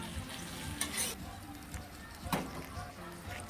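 Food sizzling as it toasts on a grill for a Uruguayan chivito sandwich, a steady soft frying crackle with a couple of brief louder scrapes, while people talk over it.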